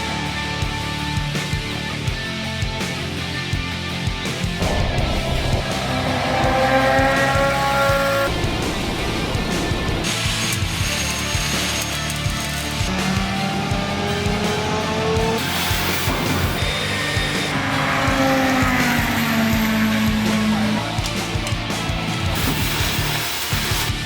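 A Jaguar XJS engine cranking over on the starter, a loud close continuous whirring grind with shifting tones and whines, no talk.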